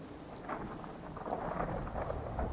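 Steady nighttime rain with low rumbling thunder rolling underneath in the video game Fallout 4, a continuous wash of sound that swells slightly toward the end.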